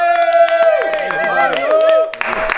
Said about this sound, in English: I'm just holding a knife clapping